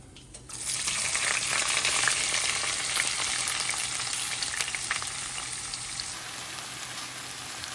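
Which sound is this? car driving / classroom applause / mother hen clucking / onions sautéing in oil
onions sautéing in oil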